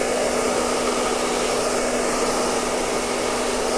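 A hair dryer blows steadily at close range, drying a man's beard during a grooming session, with a constant loud airy whoosh and a faint motor hum running unbroken throughout.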